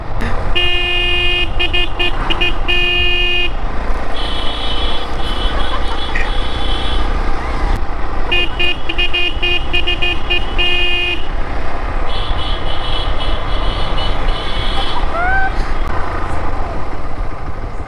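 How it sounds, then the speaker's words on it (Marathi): Vehicle horns blare back and forth on the road during a motorcycle ride, long loud toots answered by others behind, repeating over a steady engine and road drone. "हॉर्नची ना जुगलबंदी चालली आहे. मी वाजवतोय ना, पाठचे लोक रिपीट करतात"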